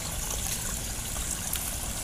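Steady broadband rushing of clear river water flowing continuously, close and fairly loud, with no voices over it.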